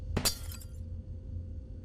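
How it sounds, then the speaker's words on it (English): A drone smashes a pane of yellow glass in the Garten of Banban video game: a sharp, loud shattering burst followed by brief tinkling fragments, then a low hum and one faint clink near the end. "the drone can be used to break the yellow glass"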